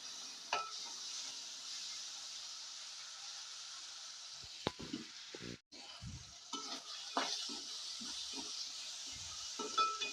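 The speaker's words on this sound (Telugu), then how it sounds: "ఒక రెండు నిమిషాలు ఈ అల్లం వెల్లుల్లి పేస్ట్ మగ్గాలండి" Ginger garlic paste cooks with onions in a pan, making a soft sizzle under repeated stirring scrapes and taps of a utensil, with a brief clatter midway and no speech.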